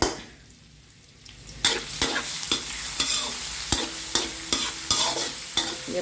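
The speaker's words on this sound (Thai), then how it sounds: "ลวนหมูสับนะ" Minced pork stir-fried in a sizzling pan, a loud steady hiss punctuated by a regular series of sharp spatula scrapes and knocks against the pan, close up, with no voices.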